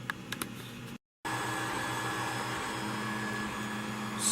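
An Ender 3 3D printer runs with a steady mechanical hum and faint stepper-motor whine. The sound drops out briefly, then resumes at an even, continuous level with no talking.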